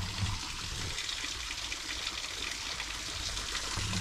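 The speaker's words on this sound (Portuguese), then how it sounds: "Barulho da água." Water trickling at a small lake in the woods, a steady, even wash of flowing water heard close and continuous, with no voices.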